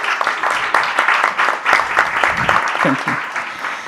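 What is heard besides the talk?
audience applauding a panel speaker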